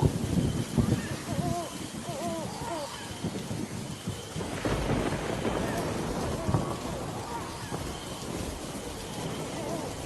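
Heavy rain pours in a steady, dense wash with low rumbling beneath, continuous and close throughout, as a voice speaks over it.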